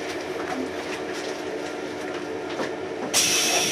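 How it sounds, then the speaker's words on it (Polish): An EIC Kaszub express train runs through Ciechanów, a steady broadband rail roar rising to a louder, brighter hiss near the end as the cars pass close by, with no voices. "Nagrywa pociąg, pociąg jedzie."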